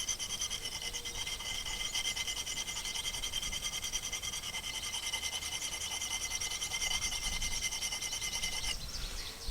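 A hand file rasps along the edge of an axe being sharpened, a continuous close scraping of even strokes with no pause, ending in a slight shift of tone.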